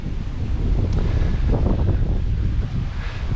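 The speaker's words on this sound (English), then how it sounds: "It's very windy today" Strong wind buffets the microphone in a constant, roaring rumble in Ondara, Spain, gusting slightly stronger midway, with no voices.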